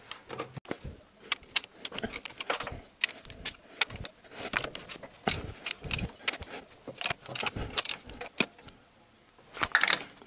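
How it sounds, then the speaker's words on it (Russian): A wrench loosens the valve cover nuts on a Toyota Camry SV30 engine, giving close, irregular metallic clicks, taps and rattles scattered through the stretch with brief quiet gaps. "Чтобы снять крышку клапанов, надо открутить 4 гайки."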